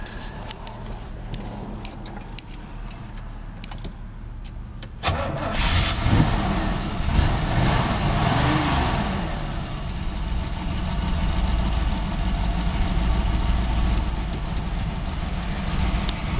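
1969 Camaro Z-28 tribute with a numbers-matching 327 V8 cranks over and fires up about a third of the way in, then settles into a loud, rumbling idle with a few light revs, heard close.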